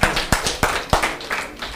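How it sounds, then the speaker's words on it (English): Lecture audience members clap a few times, several sharp, separate hand claps at irregular intervals, close and fairly loud, with a little room echo between them. "Please give one big clap."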